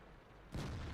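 A single tank cannon shot in World of Tanks booms out at about the half-second mark, a sudden loud blast with a rumbling low tail that fills the rest of the moment, no talk over it.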